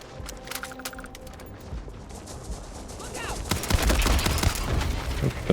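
Turret gunfire in the video game Starfield arrives in rapid, dense bursts that build toward the end, over an ambient game background with a voice speaking at times.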